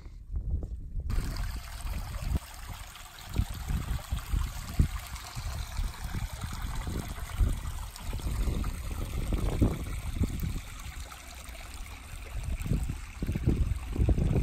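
Water trickles and dribbles over rock in Red Rock Canyon after overnight snow, a steady close babble with uneven splashy surges and occasional low thumps.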